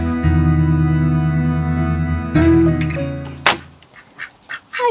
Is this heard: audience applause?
no